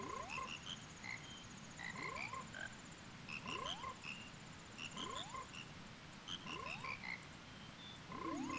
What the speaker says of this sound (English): it's the frog choir, everybody